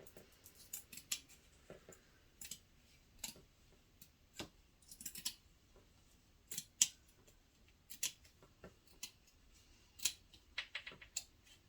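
Scissors snipping through fabric for a journal cover, quiet crisp cuts in irregular bursts with short gaps between, close and faint over a hushed room.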